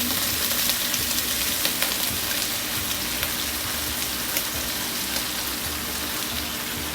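Bitter gourd sizzling as it hits hot garlic oil in a wok, a steady close frying hiss with faint stirring scrapes, no voices.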